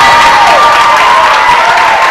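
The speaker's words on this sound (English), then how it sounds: "Listen to the crowd, they love it." A basketball crowd at a Keene State men's game cheers and applauds loudly and steadily, a dense wall of clapping and shouting that holds at full strength throughout.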